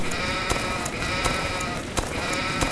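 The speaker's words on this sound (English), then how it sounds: "Oh, sheep. Let's fight the sheep." Sheep bleating in Hummingbird Simulator, a few sharp, repeated bleats over a steady game background hum, loud and close.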